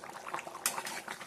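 Mutton curry simmering in a pot, giving a steady sizzling, bubbling hiss with soft popping and an occasional brief metallic clink, close and moderately loud without speech.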